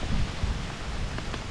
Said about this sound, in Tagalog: Oh, ulan na.